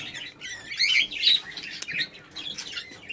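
Busy, high-pitched budgerigar chirping and warbling carries on without pause, several birds twittering close by.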